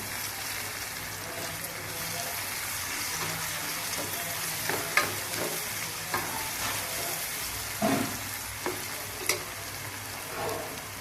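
Curry leaves crackling in hot oil in a pan for a shrimp and gongura curry: constant dense sizzle with scattered sharper pops and spatters, close by, no one talking.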